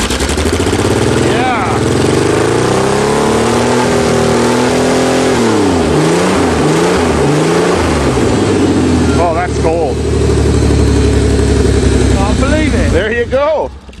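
A 1986 Ford Ranger engine starts from cold, revving up and down loudly and close before settling to a steady idle, with another short rev burst near the end.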